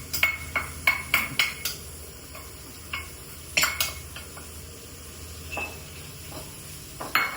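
Spoon scraping and clinking in a pan while coriander powder sautés for duck curry, irregular sharp taps over a faint sizzle.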